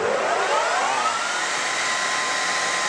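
A DoAll 13x60 lathe spindle braking to a stop from high speed, a loud broadband whir with falling tones that winds down steadily over a few seconds, no talk.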